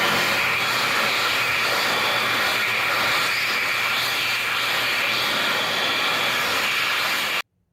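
An Xlerator hand dryer with a 1.1 nozzle, bought from Big Lots, blows steadily in a loud, even airy roar close by, holding constant for about seven seconds before cutting off abruptly.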